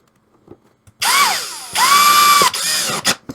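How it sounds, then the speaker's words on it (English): A power drill drives screws into a Pac-Man arcade control deck in short, loud, close bursts of whine that rise and fall in pitch, with small clicks and taps between them. "Get all your screws in first, and then tighten them down once you get them all 4 in there."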